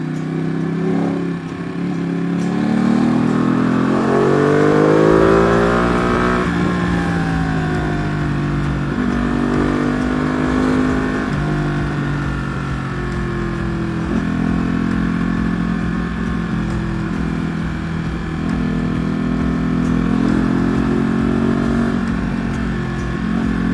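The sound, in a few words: Ducati Panigale V2 motorcycle riding on road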